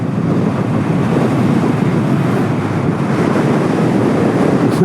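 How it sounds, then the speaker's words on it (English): Strong crosswind buffeting while riding a Honda Navi motorcycle: loud, continuous low roaring wind noise on the microphone, steady and dense throughout with no talk. "Wow, the wind is really kicking."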